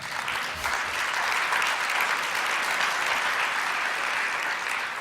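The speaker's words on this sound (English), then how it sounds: "applause" Steady, full audience applause fills a conference hall during an Andrés Duany talk, a dense continuous wash of many hands clapping at an even level throughout.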